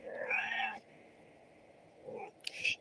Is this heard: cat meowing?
yes